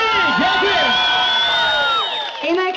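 A concert audience cheers and shouts for a folk singer, loud and sustained, with whoops over a bright ringing tone that holds throughout.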